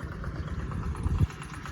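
The small engine of a four-wheel-drive ride-on lawn mower idles steadily nearby with a low, chugging rumble and no voices.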